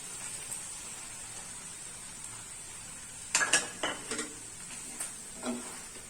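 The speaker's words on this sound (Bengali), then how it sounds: "সবকিছু মিক্স করে দিলাম আমরা খুব ভালোভাবে" A spoon scrapes and clinks against a pan while sauce and fried chicken are stirred together, several sharp metallic knocks in a short cluster over a faint background hiss.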